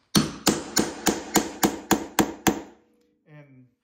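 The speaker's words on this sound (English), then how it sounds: "I'm gonna use a punch to set a divot in the bumper" A punch is hammered to set a divot in a Backwoods BMP front bumper on a Ski-Doo Expert snowmobile: nine sharp, ringing strikes in a steady, even rhythm, close and loud, followed by a brief faint murmur.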